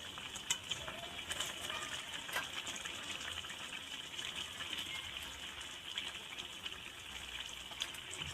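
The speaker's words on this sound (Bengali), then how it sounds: "জলটা পরিমাণ মতো দিতে হবে, কেননা আলুটা সিদ্ধ করতে হবে।" Water pours steadily into a cooking pot of potatoes and soaked chickpeas, a continuous low gushing splash at a modest distance, heard alone with no talk.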